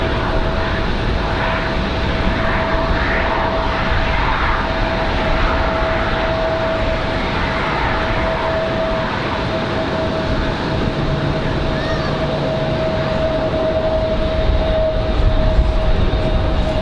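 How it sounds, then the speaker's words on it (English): Delta Air Lines Boeing 717 jet on final approach to land at Raleigh-Durham International on a windy day, a steady loud engine roar with a sustained whine, no talking. "Looks like we got a 717 on final here for Delta Airlines."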